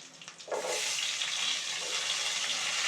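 Sliced onions with curry leaves drop into hot oil for a bitter gourd pulusu, and a broad, loud sizzle rises at once and holds steady as they fry, close by and with no talking.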